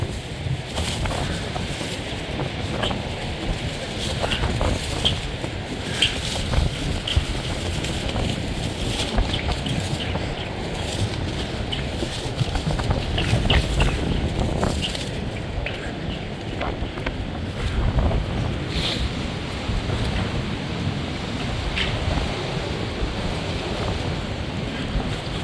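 A strong southern wind buffets the microphone on the coast at Arkhipo-Osipovka as a stormy sea roars steadily behind it, with a continuous wash of surf and gusts that rise and fall.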